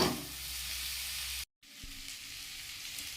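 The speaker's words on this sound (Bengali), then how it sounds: "একটু আলাদা করে দিলাম যাতে একটু ভাজাটা ভালো করে হয়।" New potatoes fry on their own in a pan for a mixed vegetable fry, giving a steady, close sizzle that cuts out for a moment and then resumes, with no talking.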